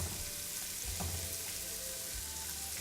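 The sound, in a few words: onions frying in a pan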